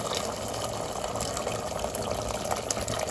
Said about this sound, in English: Now I'm going to add here 3 cups of hot water.